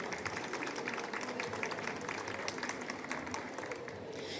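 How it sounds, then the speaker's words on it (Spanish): An audience applauds at a book launch at the FILBO 2025 book fair, a steady, faint wash of clapping that carries on without pause and without talking. "Un aplauso para todos ustedes."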